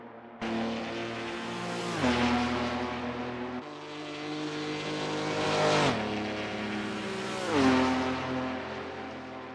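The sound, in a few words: race car engines roaring, from video game Assetto Corsa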